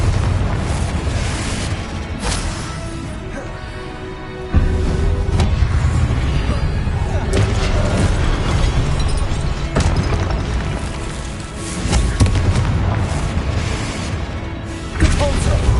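Fiery Confringo spell blasts from the Hogwarts Legacy video game burst out in a loud, continuous barrage of booming explosions with sharp impacts scattered throughout, and a voice briefly heard beneath the clamour.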